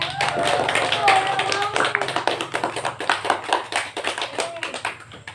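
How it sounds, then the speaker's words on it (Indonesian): At a mosque Ramadan gathering, children clap rhythmically, sharp close hand claps in quick bursts that thin and grow irregular toward the end, with voices talking over them. "Tepuk tangan untuk kita semua"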